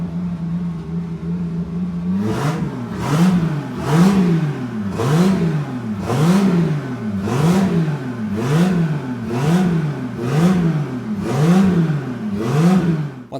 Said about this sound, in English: we moved on to reinstalling the motor into the car, and this is the first startup